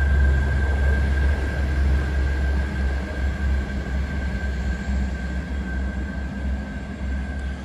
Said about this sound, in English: this train's heading off now